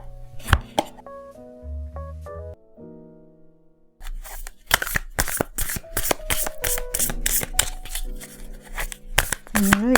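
Tarot cards are shuffled for a love reading in a close, dense run of rapid riffling slaps and flicks. Before that come a few seconds of soft tones and a pause, and a voice speaks over part of it.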